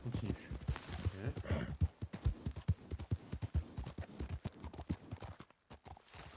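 A horse's hooves clip-clop in a rapid, steady train of sharp knocks over several seconds, moderately close, thinning out and stopping near the end.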